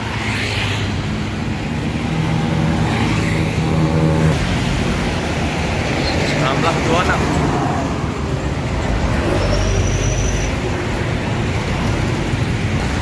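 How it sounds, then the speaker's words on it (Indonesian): Steady road traffic rumbles past near a bus terminal in the morning, a continuous loud wash of engines and tyres with a faint high whine partway through. "Lalu lintas terpantau lancar, mulai padat ya."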